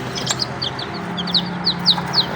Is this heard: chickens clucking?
yes